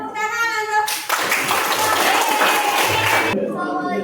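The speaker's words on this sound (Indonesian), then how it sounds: "Oke, tepuk tangan untuk." A classroom group of teachers and students claps together in a burst of applause lasting about two seconds, dense and fairly loud, with voices speaking just before and after it.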